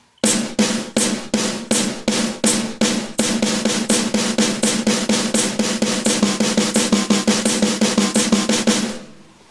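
Drumming that moves from steady eighth notes into triplets and then sixteenth notes, a dense even stream of sharp strokes that speeds up in subdivision, close and loud, with no voices.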